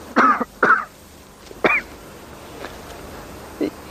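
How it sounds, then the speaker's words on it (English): A man coughs and clears his throat in a couple of close, loud bursts, followed by a few fainter isolated coughs with quiet pauses between them. "A slight cough that will develop into far more."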